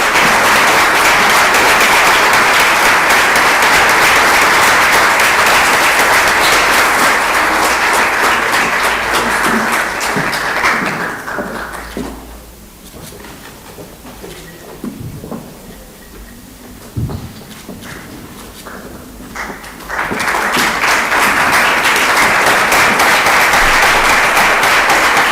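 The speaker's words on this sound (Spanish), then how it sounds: "Un aplauso, por favor." Loud, sustained audience applause at a women in science and technology gathering, fading to a quieter gap of scattered claps and room noise midway before swelling back to full clapping.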